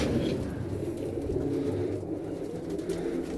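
A flock of pigeons coos in a dense, continuous low rumble of overlapping calls, close and steady throughout, with no voices.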